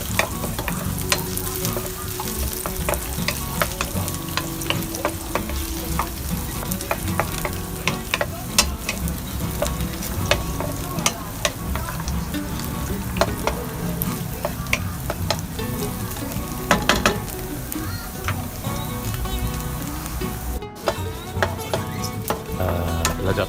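Shiitake mushrooms stir-fry in a hot pan with a continuous close sizzle, broken by frequent sharp scrapes and taps as a utensil tosses them against the metal, and no voices.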